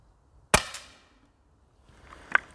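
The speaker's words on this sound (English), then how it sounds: "I'm going to put 5 shots through, and hopefully all of them go through that 10 feet per second window" An air rifle fires a single sharp, loud crack through a chronograph, and the report decays quickly into near silence. A fainter, smaller click follows about two seconds later.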